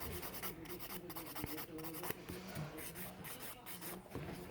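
Fingernails coated in soak-off gel polish being buffed to rough up the top coat, a soft, continuous close-up scratching and rubbing with quick back-and-forth strokes, faint and steady with no talk.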